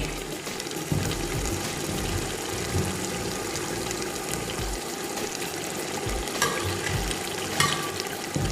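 Chicken pieces hit hot frying masala for a restaurant-style chicken korma, giving a steady, dense sizzle that carries on throughout with occasional stirring clatter and no talking.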